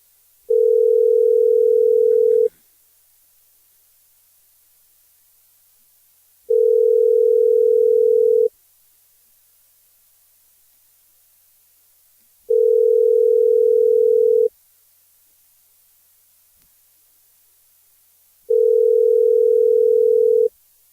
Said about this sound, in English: nothing I love more on radio than a ringing phone sound.